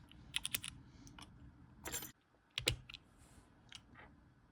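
Typing on vintage Cherry MX Black and retooled Hyperglide keyboard switches in stock form, a few close, crisp keystroke clacks in short clusters separated by brief pauses, with faint background hiss.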